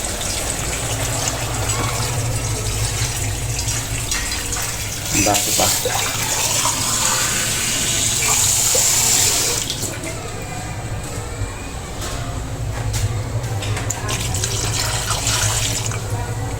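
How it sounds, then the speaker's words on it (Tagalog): Water poured into a pot while cooking chicken tinola, a steady loud rushing stream lasting many seconds, with a person briefly speaking over it. "Ayan po ay lalagyan natin ng tubig."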